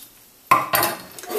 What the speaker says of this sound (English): You're just gently cutting through with your knife until you feel the skin with the end of the knife.